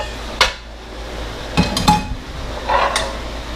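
Cast iron pots being handled during a house clean-out give off several sharp metallic clanks and knocks at irregular intervals, close and fairly loud against a quiet background.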